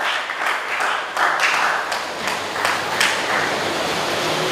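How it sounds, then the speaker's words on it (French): A conference audience at a debate on Christians and politics applauds, giving dense, continuous clapping that swells and holds steady across the whole stretch, with no talking over it. "Alors, sous vos applaudissements, nous laissons la parole à notre conférencier."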